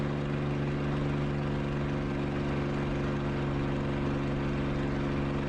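In the DCS World flight simulator, the TF-51D propeller plane's engine holds a constant, heavy droning hum with a steady low tone throughout.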